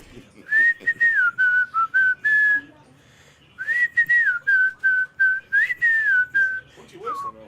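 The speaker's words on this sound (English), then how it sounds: "What you whistling on, huh?" Someone whistles a wavering melody in two long phrases, clear and close, with a brief pause between them.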